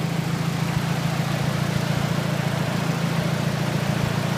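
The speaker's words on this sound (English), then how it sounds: "Nice quiet motor." A Mitsubishi Lancer Tommi Makinen edition idles quietly at a car dealership, a steady low engine hum with faint regular ticks, close and constant, with nothing else around it.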